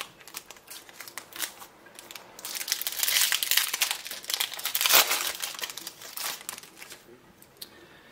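Foil wrapper of a Terminator CCG booster pack crinkles and tears up close, a dense stretch of crackling rustle that swells in the middle and fades back to light handling.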